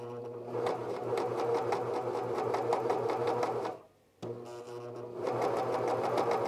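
A cover stitch sewing machine fitted with a binding attachment runs at a steady, even speed with a rhythmic mechanical chatter, stops briefly for under a second, then resumes stitching.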